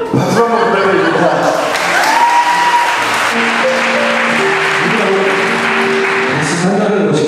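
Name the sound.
wedding guests applauding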